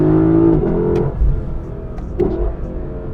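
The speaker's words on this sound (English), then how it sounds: "Second gear downshift." Lexus LC 500 coupe engine blipping on a second-gear downshift, a short loud rev that falls away, followed by lower rumbling and a second brief throttle blip.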